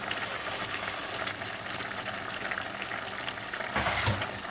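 Beef noodle soup broth with tomatoes, carrots and light soy sauce being stirred in a pot, a steady close sizzle and bubbling with liquid sloshing, swelling briefly near the end.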